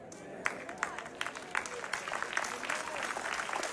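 A church congregation claps sparsely, scattered individual claps thickening into light, uneven applause in a large room.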